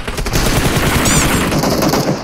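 Loud, continuous automatic gunfire in the PUBG video game on the Miramar map, close and dense, with rapid overlapping shots filling the whole moment.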